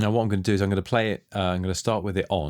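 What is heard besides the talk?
No everyday noise stands out behind the speech.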